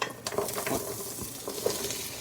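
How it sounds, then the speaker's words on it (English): Steady sizzling of vegetables sautéing in a hot pot for chicken noodle soup, a close crackling hiss with occasional stirring scrapes and clatter. "you hear it sizzling? That's what you want to hear."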